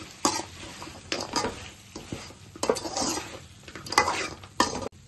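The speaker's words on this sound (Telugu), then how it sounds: "మనం ఫ్రై చేసుకున్నాం వేసుకొని కలుపుకుందాం" Fried chicken pieces being stirred into a thick chilli chicken sauce in a pan, with repeated scraping and clattering of a spoon against metal over a steady low sizzle, close and moderately loud.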